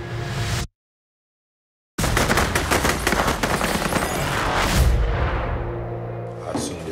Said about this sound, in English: You just hear that gunshot, baby?